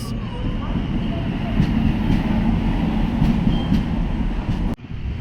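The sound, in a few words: train arriving at station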